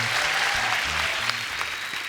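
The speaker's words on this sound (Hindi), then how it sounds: "जोरदार तालियां।" A studio audience breaks into loud, dense applause that holds steady throughout, with a low hum of music or rumble running underneath.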